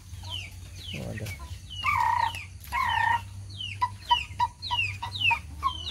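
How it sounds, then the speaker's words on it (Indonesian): Chickens of Bangkok and Pelung breeds cluck and squawk close by on a rural farm, with repeated short calls and a few longer drawn-out cries, and faint people's voices in the background. "Ayam semua ini."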